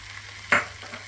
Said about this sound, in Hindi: चिकन को उस वक्त तक भूनना है जब तक कि चिकन वाइट ना हो जाए।